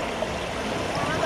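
Floodwater in Bihar flows beneath a path in a steady, close rushing wash with gurgling, and a voice can be heard over it.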